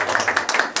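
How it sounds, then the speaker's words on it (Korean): Short, scattered hand claps from attendees at an alumni association steering committee meeting, a loose burst of a few people clapping at close range in a room with no talk over it. "우리 32회 동기회를 먼저 박수 한번 쳐주세요."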